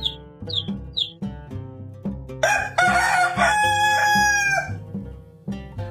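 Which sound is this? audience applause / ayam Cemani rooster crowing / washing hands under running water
ayam Cemani rooster crowing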